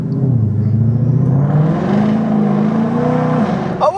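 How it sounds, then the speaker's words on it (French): A car engine droning loud and close with a steady rising hum, then easing off near the end, with no talking. "entend ce moteur là"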